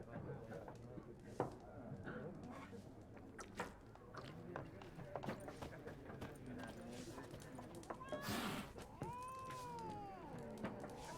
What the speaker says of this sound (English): I hear an angry cat.